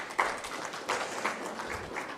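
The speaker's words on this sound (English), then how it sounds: "A big round of applause for all our speakers." An audience at a national road-safety conclave applauds the speakers, a steady, moderately distant patter of many hands clapping with no talk.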